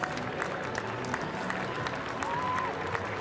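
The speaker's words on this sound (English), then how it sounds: "you just hear a bit of a buzz around the crowd" A cricket crowd at a one-day cup final buzzes and applauds as a new batsman walks to the crease, a short spell of scattered clapping and murmur at moderate distance.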